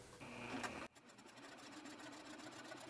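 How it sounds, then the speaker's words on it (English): A sewing machine stitches a seam on a muslin bodice with a steady, close whir that stops abruptly partway through and gives way to quieter room sound. "Line up your raw edge with the 1/2 inch seam allowance and start sewing without a back tack."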